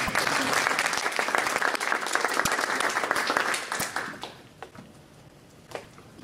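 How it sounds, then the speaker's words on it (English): An audience at a conference session applauds loudly for several seconds, then the clapping thins out to a few scattered claps and fades away. "Okay, I'll stop clapping."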